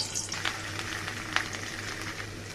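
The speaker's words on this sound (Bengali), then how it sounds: "লবণ দিয়ে আলুগুলো ভেজে নেব।" Small new potatoes frying in white oil with salt, a steady soft sizzle and crackle running throughout with a couple of brief clinks from stirring.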